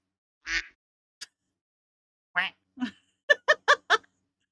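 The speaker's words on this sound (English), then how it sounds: "We have this duck noise." An AI-generated duck voice quacks in short, separate bursts: a nasal quack, a pause, another quack, then a quick run of four clipped quacks, loud, close and dry against silence.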